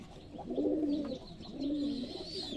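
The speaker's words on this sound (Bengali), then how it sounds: "নিউ অ্যাডাল রেসারের কিছু নর আছে এরা সব সময় ডাকাডাকি করতেই থাকে" Male racing pigeons coo indoors in a pigeon loft. Two soft, rolling coos follow one another at moderate distance, with faint background chirps.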